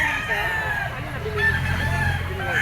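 A Boston Sweater bloodline bull stag rooster crows at an outdoor market in Grotto, Pechangge, its drawn-out call rising over steady background crowd noise and murmuring.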